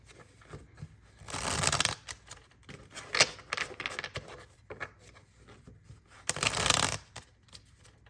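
A deck of oracle cards being shuffled by hand, with several bursts of riffling and rapid flicking separated by quieter pauses, close and clear with no talk.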